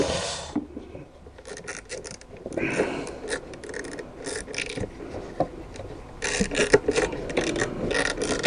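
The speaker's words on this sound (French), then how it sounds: "Heureusement que j'ai le cliquet qu'on peut tourner au manche là." Ratchet wrench clicking and turning during an oil and filter change on a Peugeot 207 1.4 HDi, a close, irregular series of mechanical clicks and scrapes with bursts of ratcheting and no talk.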